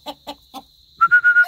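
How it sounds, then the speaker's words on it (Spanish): A young rooster clucks three short, evenly spaced times, then gives a rising series of thin, tonal whistle-like calls, close and fairly loud. "¿Cómo está ese gallito?"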